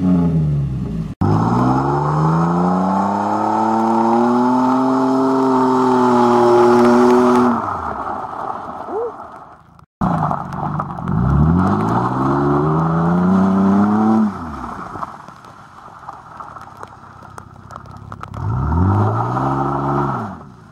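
Repeated revs from a 2019 Ford Fiesta SE running a modified exhaust: loud, close blips that climb and fall in three separate bursts, with no talk over them.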